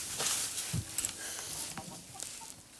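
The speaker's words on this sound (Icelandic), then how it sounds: "Við erum nokkra landnámshænur." Icelandic settlement hens cluck in short, scattered bursts at a moderate distance, with a soft outdoor hiss underneath and no talking.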